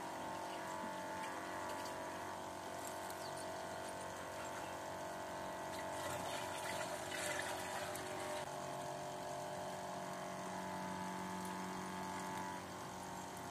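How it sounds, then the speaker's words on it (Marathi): A water pump drones steadily and continuously as it fills for irrigation of a planting, a constant mechanical hum with faint watery texture and no talk. "पूर्ण पंप भरला की मी मग पंप चालू करून"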